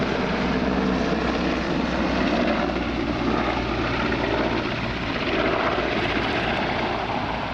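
A Portuguese Air Force AgustaWestland EH-101 Merlin helicopter roars overhead at an air show, climbing in a spiralling vertical departure and then diving, with loud, steady rotor and turbine noise throughout.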